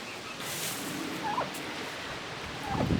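Turkeys gobbling in a homestead coop, two short, faint gobbles spaced apart against steady wind-like background noise, a little distant.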